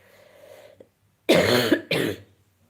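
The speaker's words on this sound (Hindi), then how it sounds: "खांसी बहुत आवत है" A few harsh coughs, close and fairly loud: a faint small one, then two strong bursts in quick succession, with quiet before and after.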